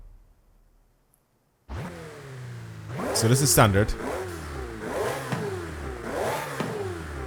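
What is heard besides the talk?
Ferrari F8 exhaust revving, video game Forza Horizon 5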